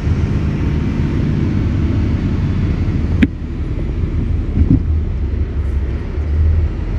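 UD Quester CKE 250 Euro 5 truck engine heard from inside the cab while shifting into second gear, a loud steady low diesel rumble with a sharp click at the gear change, then the engine pulling on.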